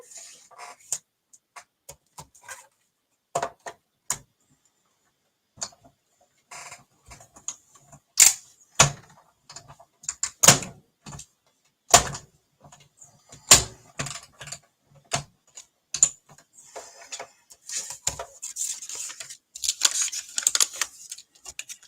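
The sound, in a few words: die-cutting machine cutting card stock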